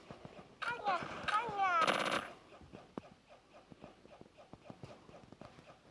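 Machine gun fire in a video game rattles out in quick bursts, joined by other clattering game effects and sharp transients, fairly faint overall with brief voices nearby.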